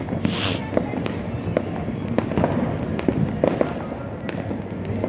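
New Year's Eve fireworks burst as a string of sharp cracks and pops, some nearby and some farther off. Each bang sounds above a background hum from the crowd.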